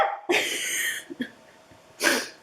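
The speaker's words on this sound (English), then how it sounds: "I'm gonna sneeze." A woman sneezes, a sharp loud burst followed by a few small breathy catches and a second forceful sneeze-like expulsion, close to the microphone in a quiet room.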